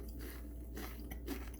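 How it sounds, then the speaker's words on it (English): Bites into crunchy little fried apple biscuits give brief crisp crunches over a steady low background hum, faint and close with no talking. "That's the crunch on these little fried apple biscuits"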